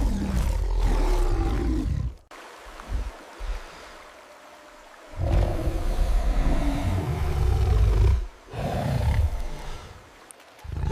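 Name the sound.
King Kong's thunderous roar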